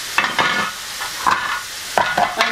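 Bean stew cooking in a pan, with a steady sizzle and frying hiss broken by several short clattering stirs and scrapes at close range, and no talk.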